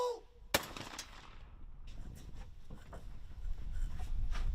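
A single sharp, loud gunshot from a video game cracks early, followed by softer scattered shots and rising rumbling battle noise in the background.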